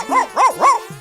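A person vocally imitates a dog, giving three rising-and-falling bark-like yelps in quick succession, close and fairly loud, followed by a short low sound at the end.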